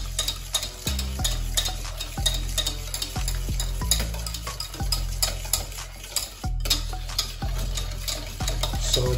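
A whisk stirs Gouda cheese into a white sauce in a pan, scraping and clicking against the metal in a quick irregular rhythm over a soft sizzle, close and fairly loud with no talking.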